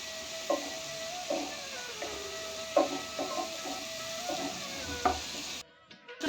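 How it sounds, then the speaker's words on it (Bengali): Ginger, garlic and onion fry in oil in a pan for a Bengali potol chingri dish, giving a steady close sizzle with repeated scraping stir strokes at irregular intervals, then a brief drop near the end. "আদা ফেটা করা রসুন পেঁয়াজটা আমরা একটু ফ্রাই করে নেব"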